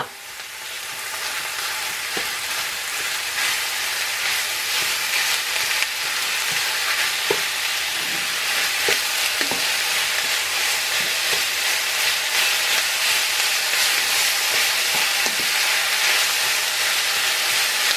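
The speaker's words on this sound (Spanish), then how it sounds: "Voy a echar ahora la carne." Meat sizzles and fries steadily in a pan for a potato-and-cheese filling, a continuous loud hiss broken by repeated scraping clicks of stirring, with no voices.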